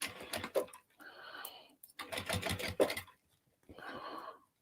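A sewing machine stitches a bag seam in two short close bursts of quick rhythmic whirring, alternating with someone talking quietly.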